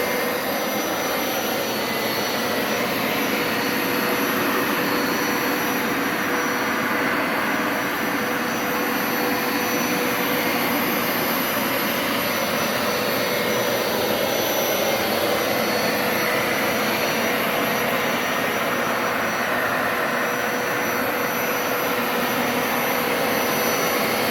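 A Hoover Power Scrub Elite carpet cleaner runs steadily in rinse mode, its loud, continuous motor whine and suction roar filling the whole span without a break.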